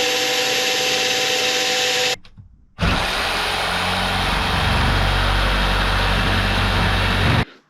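A jigsaw cuts through wood with a loud, dense buzzing rasp, stops briefly for under a second, then resumes and runs steadily to the end.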